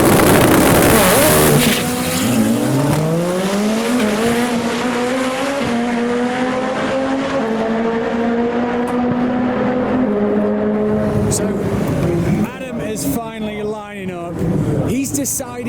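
A boosted classic car launches hard down a drag strip, its engine note climbing steeply through the gears in loud, rising sweeps. The roar is close and continuous, then stutters near the end as the car shifts and backs off.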